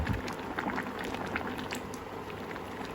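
A pot of Thai bamboo shoot curry bubbling at a boil, soft continuous popping and gurgling close by, with no talk.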